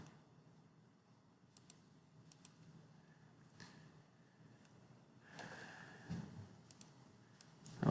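A computer mouse clicks several times, heard as faint, sharp isolated clicks spread across a quiet room tone, with a slightly busier rustle of handling toward the end.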